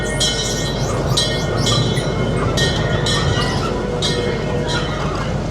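A train ride at Seabreeze amusement park runs steadily and fairly loud, with a continuous rumble, squealing wheels and metallic clinks over a broad noisy din.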